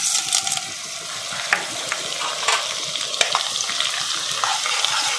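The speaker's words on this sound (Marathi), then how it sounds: "आता मी पहिल्यांदा त्यामध्ये डिंक तळून घेणार आहे।" Edible gum pieces frying in hot ghee: a loud, steady crackling sizzle under occasional stirring scrapes and small pops.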